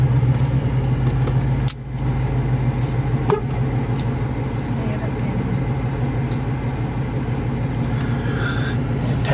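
A car drives through traffic in Iguala, Mexico: a loud, steady low engine drone from inside the vehicle, with a brief dip and a couple of light knocks along the way.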